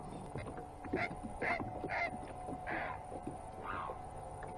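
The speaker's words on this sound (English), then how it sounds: "Oh, bird's talking nasty to us." Goose-like honking calls from a bird near a fishing boat out on the water during a December crappie trip, several loud repeated honks spaced about a second apart over a low background rumble.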